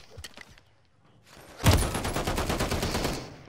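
Sudden burst of rapid automatic gunfire in Modern Warfare 3, loud and close, following a quiet moment with faint sounds.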